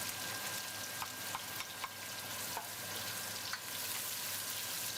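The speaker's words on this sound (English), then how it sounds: "Next, we're going to add the onion." Onion frying in a pan with rosemary: a faint, steady sizzle with a few soft utensil taps, quiet and continuous.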